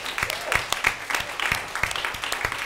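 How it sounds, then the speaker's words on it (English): A studio audience applauds a guest's introduction on an evening talk show, sparse, distinct claps ringing out over about three seconds, fairly close and moderately loud, with the clapping uneven rather than a dense roar. "Big round of applause."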